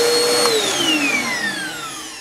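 A Bissell CleanView upright vacuum cleaner running loud and close, a steady motor whine that drops slightly in pitch as it settles, with no talk.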